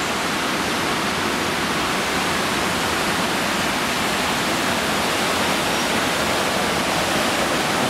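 River water pouring over a weir makes a steady, dense rushing roar, loud and close, holding unbroken for the whole stretch with no voices.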